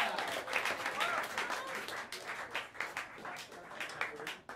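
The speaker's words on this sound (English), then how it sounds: "Give me a round of applause for the fantastic Cush Abaday on the drums and cymbals." The audience at Smalls Jazz Club applauds for the drummer on drums and cymbals, a steady, moderately quiet patter of clapping from a small crowd lasting several seconds, with some voices mixed in.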